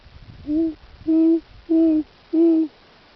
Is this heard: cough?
no